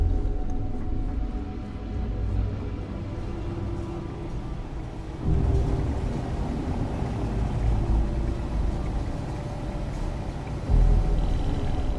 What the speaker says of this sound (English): You can hear the engines, can you? You're not going to find better tuned engines anywhere else in the settled systems.